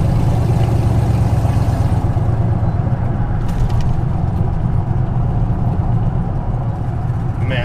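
A cammed Chevrolet Silverado with open headers coasts with the throttle closed, giving off a loud, close, continuous rumbling drone with a rough, uneven exhaust texture throughout.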